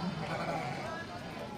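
Sheep bleat amid a busy Indonesian livestock market where rams are being sold, the calls blending into steady crowd noise with people talking throughout.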